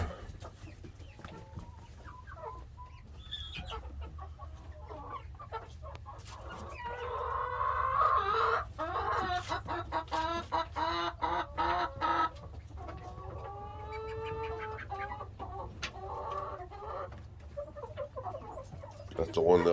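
Chickens, including a naked neck golden lace, cluck and murmur around a feeder on a rainy day, with rising squawks and calls midway over a steady low background hum.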